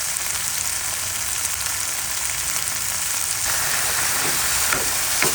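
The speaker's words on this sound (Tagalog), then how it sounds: "lalagyan ko po siya ng patis para igisa po natin siya sa patis." Garlic, onion, ginger and tomato sizzle in hot oil with fish sauce, giving a steady, close frying hiss that swells louder partway through, with faint stirring scrapes.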